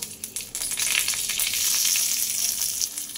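Fried pointed gourds going into a little hot oil in a wok, where a few brief clatters give way to a loud, continuous close sizzle, with no voices.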